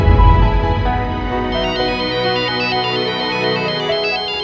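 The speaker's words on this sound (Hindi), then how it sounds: "तुम्हारा फोन बज रहा है?" A mobile phone ringtone plays loudly and close by as a continuous electronic melody with repeating bright tonal phrases and a strong low beat at the start, with no talking over it.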